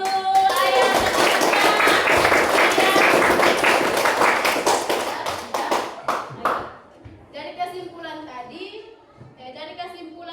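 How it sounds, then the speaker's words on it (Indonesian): A classroom of students claps together in applause, a dense, loud burst of hand claps that fades into scattered claps while a voice and other voices talk in the room. "Iya, aplaus dulu."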